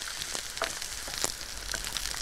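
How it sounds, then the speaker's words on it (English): Celery and carrots sizzle and crackle steadily in a hot pan, with scattered pops and a little stirring, close and fairly quiet, no voices. "Keep the celery and the carrots sizzling away until they go soft."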